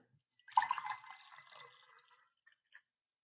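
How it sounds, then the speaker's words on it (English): Cold water poured into a container for a diffusion experiment, a short close splashing trickle that tapers off, followed by a couple of faint drips in an otherwise quiet room. "I'm going to pour my cold water in this first container."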